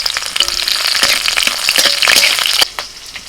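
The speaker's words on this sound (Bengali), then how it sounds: "তেলের মধ্যে ফোড়নে দিচ্ছি শুকনো লঙ্কা গোটা জিরে এবার দিচ্ছি রসুন কুচি চেরা কাঁচা লঙ্কা" Dried red chillies, whole cumin, chopped garlic and slit green chillies hit hot mustard oil in a wok, giving a loud, dense crackling sizzle with sharp pops that drops to a quieter hiss near the end.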